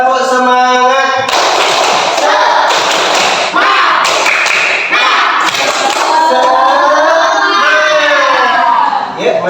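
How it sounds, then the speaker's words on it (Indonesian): Fifth-grade class doing a rhythmic spirit clap, with loud, dense bursts of group clapping and thumps close by and voices chanting along. "Kita tepuk semangat sekali lagi."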